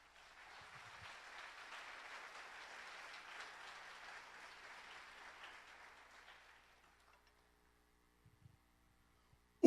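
A church congregation applauds steadily for several seconds as a soft, distant wash of clapping, then fades out into near silence with a couple of faint knocks.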